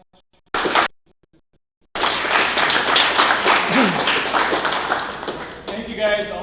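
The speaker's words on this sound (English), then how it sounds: "Applause to Ted Stravinsky." Applause from an audience at a D-NewTech tech meetup hosted in the Techstars office, starting briefly then swelling into a sustained, dense round of clapping with some voices mixed in, fading toward the end.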